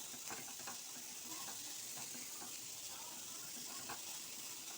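Curry seasoned with turmeric is stirred in a frying pan, with a faint, soft sizzle and the scrape of a spatula moving the food around. A quiet voice can be heard faintly in the background.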